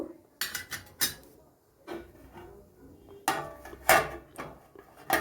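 A metal lid is set on a cooking pot of potato and chickpea curry, heard as several sharp clanks and scrapes close by, with quieter handling noises in between.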